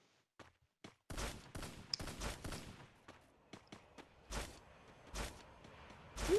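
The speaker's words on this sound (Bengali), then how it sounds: "এখানে আমি ফায়ার শুনি একটা এনিমি তাকে যেন ফায়ার করতেছে" Enemy gunfire in the Free Fire battle game: a quick string of sharp shots, some faint and distant and others louder and closer, arrives in uneven bursts.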